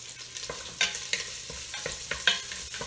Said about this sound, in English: Alright, so you want to fry your sausage.